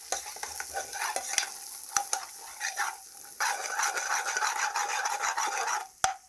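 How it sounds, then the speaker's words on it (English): Coriander and cumin seeds toast in a dry pan, giving a close, steady rasping rattle and scrape of stirring that swells in the second half, with no voices. "So let's just toast our spices."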